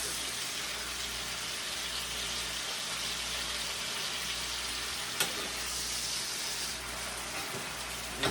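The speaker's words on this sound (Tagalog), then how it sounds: "May ginisa tayong mushroom ohong, kabuti." Mushrooms sautéing in a pan for a Filipino ginisang patola dish give a steady, close, dense sizzle throughout, broken by a couple of brief clicks of a utensil.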